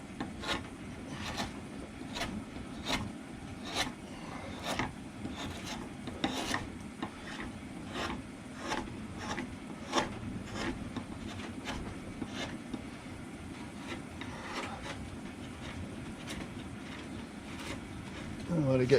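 A carving gouge cuts wood while roughing out the head of a large Bellamy eagle carving, with repeated sharp scraping strokes over a steady rasping background, fairly faint and close, with no talk.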